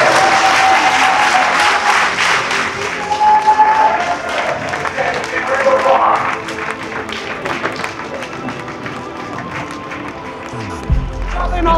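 An audience applauds at a dunk contest, loud sustained clapping and crowd noise that slowly thins, with a voice talking over it.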